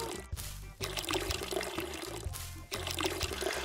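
Water pours steadily in the Weed Shop 2 video game, a broad continuous splashing flow with brief dips, alongside a low looping game music bed.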